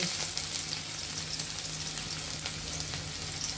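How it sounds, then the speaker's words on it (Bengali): Chopped onion fries in hot oil in a pan, a dense continuous sizzle and crackle heard close up with a faint low hum beneath, no voices. "তেলটা আমাদের গরম হয়ে গিয়েছে এখন আমরা সামান্য পরিমাণের মতো পেঁয়াজ কুচি দিয়ে দিব"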